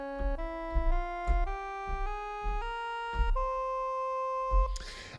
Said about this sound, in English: So this is the fifth mode of the harmonic minor scale